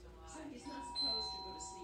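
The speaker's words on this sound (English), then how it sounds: "You can hear the doorbell in the background there if you listen closely" A doorbell rings faintly in the background of a home during dog training, a soft two-tone chime that sits under people talking.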